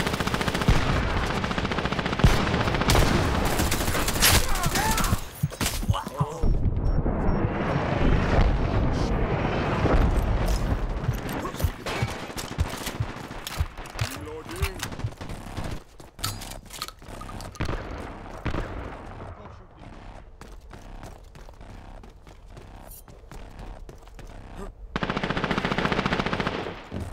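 Sustained, loud gunfire from the shooter game Dirty Bomb: rapid machine-gun bursts and heavy blasts pile up for long stretches, thin out into scattered shots partway through, then swell again near the end.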